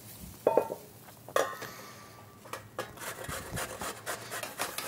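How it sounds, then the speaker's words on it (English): Cucumber is rubbed against a grater into a bowl in a kitchen, giving soft scraping strokes with a couple of sharper knocks, fairly quiet and close with no talking. "You just cut half of the cucumber, grating in the bowl."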